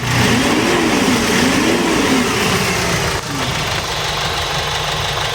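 A rebuilt D4CB diesel engine runs close by after an overhaul, loud and steady with a wavering pitch as it is revved up and down, then settles to a steady idle.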